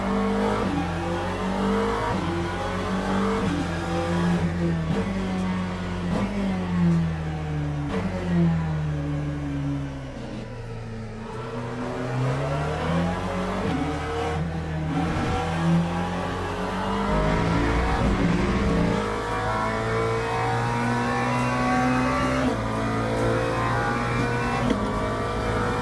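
A McLaren race car engine in the racing game Le Mans Ultimate revs up and down through repeated gear changes, its harmonic whine rising and falling loudly and continuously, dipping once under braking before climbing again.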